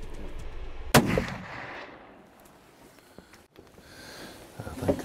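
A single sharp rifle gunshot cracks out once while hunting in open West Texas free-range country, a loud impulsive report with a brief tail, followed by quieter outdoor wind noise and a faint second thump.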